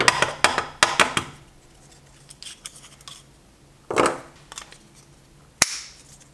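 A car speaker for a BMW E36 M3 is pressed into its plastic cover, giving a string of sharp plastic clicks and snaps, then a single loud crisp snap near the end, all close by.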